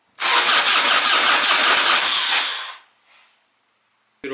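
A Harley Dyna motorcycle engine, fed with starter fluid, cranks and catches in a loud burst lasting over two seconds, then dies away, with a brief weaker sputter and another short burst at the end.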